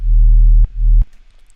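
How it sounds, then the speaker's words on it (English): Pure synthesized sine wave sub bass from an electronic track, two loud, deep sustained notes with a brief break between them, then cutting off into near silence, with no talking. "then we have the low layer, which is the sub bass that sounds like this."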